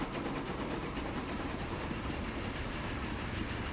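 A train runs along the tracks in the video game Transport Fever 2, giving a continuous dense rumble with a faint rhythmic clatter of wheels, steady and fairly close, with no voices.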